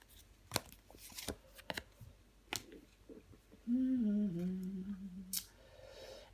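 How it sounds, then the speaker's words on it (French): Tarot cards are shuffled and laid out with sharp, scattered snaps and slaps close by. A brief hummed vocal tone sounds midway, then more card handling follows. "Mais nous allons recouvrir des cartes."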